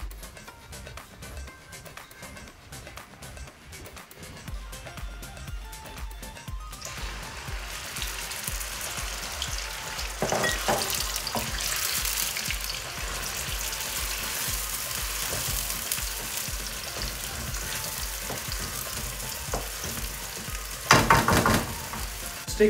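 Lamb masala fries in a pan with garlic and ginger, a steady close sizzle that swells louder partway through, with brief stirring scrapes and a sharper burst near the end.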